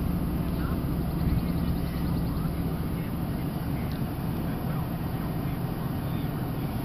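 Engine of a 2002 Chevy Silverado idling after a cold start, a steady low rumble close by without chugging or stumbling, with faint voices in the background.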